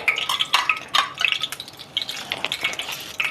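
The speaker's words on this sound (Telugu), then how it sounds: "ఇదే నూనెలో పోపు పెట్టేసుకున్నాం" Whole spices sizzling and popping in hot oil in a pan while making a drumstick pickle, with sharp crackles and small metallic stirring clinks close by, steady throughout.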